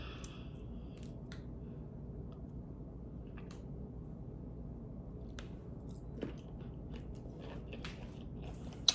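Close-up chewing and biting of tiger prawns served with spicy carbonara ramen, soft squishy mastication running steadily throughout with a few small crunches, no talking.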